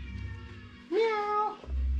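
A single drawn-out cat meow, clear and close, rising then holding steady for about half a second amid a quiet room hum.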